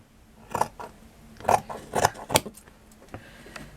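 Scissors cut through a fabric scrap in a home sewing setting, giving several short crisp snips and rasps in quick succession, close and fairly quiet, with no talking.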